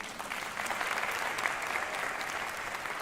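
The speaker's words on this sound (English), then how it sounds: "but an applause for her" Steady, moderately distant applause from an audience at a maternal and infant health summit, an even wash of many hands clapping for a few seconds without pause.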